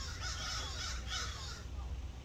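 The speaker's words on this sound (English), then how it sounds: "And lots of crows." Several crows caw in a few bursts over steady low background rumble, fairly close and moderately loud, outdoors on a sunny day.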